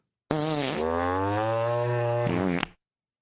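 A synthetic fart sound effect, one long, loud, buzzy blast lasting over two seconds with a strong rising-then-steady pitch and a sputtering end, heard alone.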